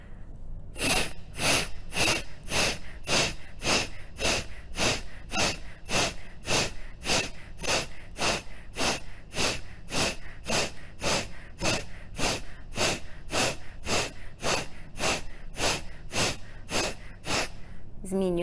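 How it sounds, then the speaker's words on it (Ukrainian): Rhythmic, forceful breathing through one nostril with the other held closed, in a group breathing practice session, repeating as about thirty sharp, evenly spaced sniffing exhalations, close and loud, with no talking. "Ми закриваємо ноздрю, дівчата дихають лівою, хлопці дихають правою."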